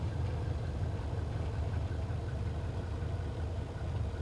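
A small aircraft engine idling in Microsoft Flight Simulator, a low, steady throbbing drone at moderate level, continuous and unchanging, with no talking over it.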